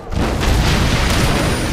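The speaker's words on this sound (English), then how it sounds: "Human Zoe died in the explosion" A loud explosion from the TV series Caprica: a dense, rumbling blast that fills about two seconds with sustained low booming and crackling, close and heavy throughout.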